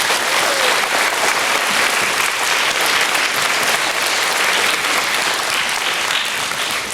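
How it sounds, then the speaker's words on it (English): Loud, close, continuous applause from an awards ceremony audience honouring a school selection committee, a dense even wash of clapping holding steady with no speech over it. "So please at this time give them a round of applause."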